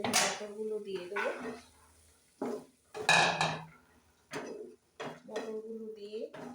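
Green peas tipped into a pan of fried spices for palang matar, with pot and utensil clatter and scraping in a few short bursts while a person talks.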